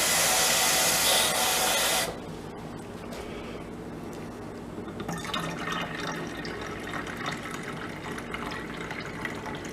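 Water pours steadily from a cup into a container for about two seconds, a loud dense rush that then cuts off, leaving faint dripping and quiet rustling.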